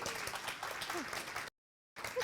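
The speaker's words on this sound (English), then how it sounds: "How about a round of applause for Kerry?" Applause for Kerry at a bootcamp session fills the room as steady, moderately loud clapping. It cuts to silence briefly before clapping resumes.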